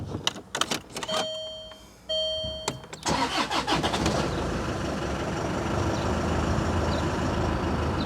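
A car's ignition is keyed on with a few short clicks and chimes, then the engine cranks and catches around three seconds in, settling into a steady, close running hum.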